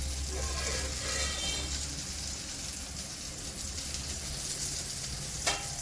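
Tomatoes frying and sizzling in a pan for a Kerala-style crab roast, a steady broadband hiss with occasional stirring scrapes and a brief clink near the end, no talking.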